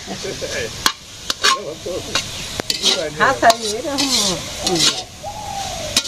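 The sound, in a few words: greens being fried in a pan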